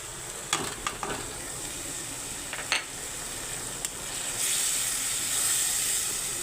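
Turmeric, chilli, coriander and cumin powders sizzle in hot oil for a Bengali katla fish curry, a steady soft frying hiss with a few sharp crackles and a louder, brighter sizzle building toward the end.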